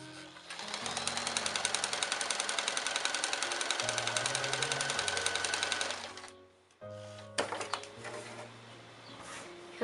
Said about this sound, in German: Ich habe jetzt einmal hier lang genäht und einmal hier.